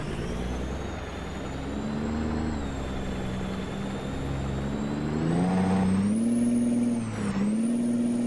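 A Kenworth T600 truck loaded with gravel labors uphill, its diesel engine droning steadily, then rising in pitch and loudness as it pulls harder, with a whining tone above the rumble.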